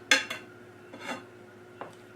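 A utensil stirring mushrooms and onions into gravy in a pan, producing a few short scraping and clinking strokes, close and fairly soft, spaced irregularly with quiet gaps between them and no speech.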